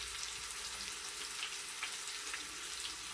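A honey and soy sauce mixture bubbling back to a boil in a pan, giving a steady, soft sizzling hiss with faint pops throughout, no voices.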